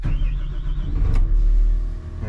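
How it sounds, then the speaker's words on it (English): Engine of a Next Gen Cat 938 wheel loader starting up, a loud, close, steady diesel rumble with a brief whine partway through. "So let me get the loader fired up here."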